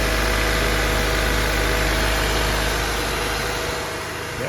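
A 1996–2000 Honda Civic engine idles steadily just after a fuel injector change, with a close, loud, continuous hum and vibration that stays even throughout and dips slightly near the end.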